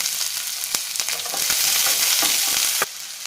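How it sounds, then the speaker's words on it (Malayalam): Sliced onions sautéing in hot oil with mustard seeds, dried red chillies and curry leaves in a pan for a Kerala broccoli thoran, a steady close sizzle broken by a few sharp pops and spoon scrapes, with no talk. "സവാള ചേർത്ത് 1 മിനിറ്റ് ഒന്ന് വഴറ്റണം."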